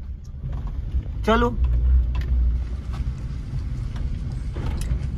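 A car picking up speed and shifting into second gear while learning to drive through narrow lanes: a low engine rumble swells, then settles, as an instructor speaks briefly over it.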